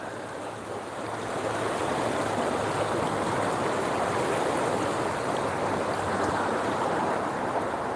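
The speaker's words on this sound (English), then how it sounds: "Beautiful Westfield River." Steady rushing flow of the Westfield River, a dense unbroken wash of water heard close and loud throughout, with no voices.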